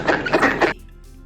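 Three quick, nasal quacks from a duck, close and clear, followed by quiet.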